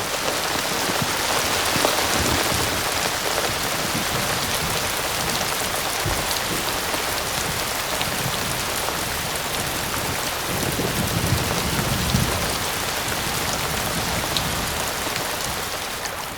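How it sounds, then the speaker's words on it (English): Heavy monsoon rain pours down in the desert, a dense, steady hiss of drops drumming on the ground that stays loud and unbroken throughout. "When it rains in the desert, it really rains."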